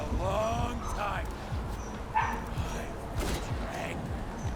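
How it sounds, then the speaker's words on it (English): A dog barks and yips intermittently in the background of a room, several short barks under ongoing talk. "I apologize for the dog in the background."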